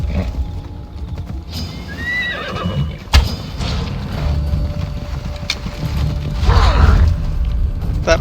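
A horse ridden in the game Assassin's Creed Odyssey: steady hoof clip-clops sound under ambient outdoor noise, with a neigh or whinny and some creaking tack mixed in.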